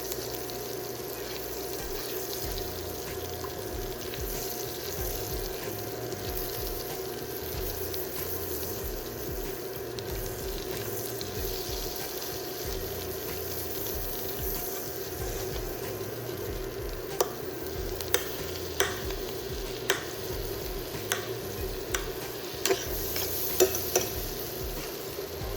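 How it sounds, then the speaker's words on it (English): A third cup of butter melting in a pan with beef drippings for gravy, giving a steady soft sizzle and hiss throughout, with a few sharp clicks and taps near the end. "I'm gonna add a 1/3 cup of butter in there. Melt our butter in here"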